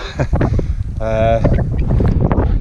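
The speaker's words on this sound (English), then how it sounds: "it's just so wet, so windy, so horrible" Loud, blustery wind and rain buffet a microphone on the Offa's Dyke path near Bodfari, with heavy low rumble throughout, and a brief tonal whine rises partway through.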